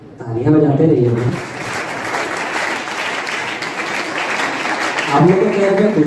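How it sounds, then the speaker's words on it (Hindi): Steady, loud applause from an audience at an orientation program, filling the middle of the clip between stretches of talk through a microphone at the start and end. "तालियां बजाते रहिए ना।"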